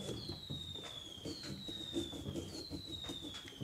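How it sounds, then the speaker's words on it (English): Fireworks go off outdoors at a distance, faint crackles and pops joined by several thin descending whistles, heard indoors with no talk over them. "there's more fireworks going off outside"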